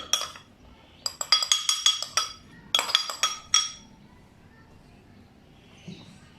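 Light clinks and taps of a spoon against a bowl as powdered spices go into flour and cornflour for crispy chicken tender batter, several quick clusters of close metallic ticks, then quiet.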